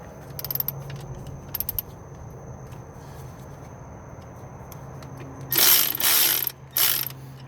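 A ratchet on a 2009 Toyota Corolla with the 1.8-liter engine, working an alternator bolt, gives short bursts of clicking early on, then louder rapid ratcheting clicks near the end, with no talk.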